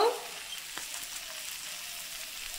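Samosa filling of fried cauliflower, potato, salt and fried peanuts cooking in a pan: a soft, even sizzle with a faint stirring scrape near the start, fairly quiet and steady throughout.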